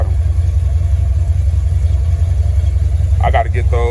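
An Oldsmobile car engine, running again after a fuel pump wire fix, keeps a steady low idle rumble throughout, close and loud, with a brief voice near the end.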